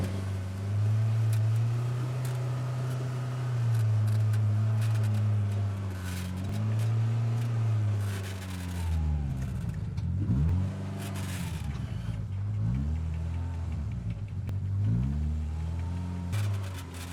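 A 2025 Polaris RZR Pro R off-road buggy engine droning up a steep backway trail toward Crown King, Arizona, holding a steady mid-pitched hum, then revving and surging in repeated bursts as it climbs.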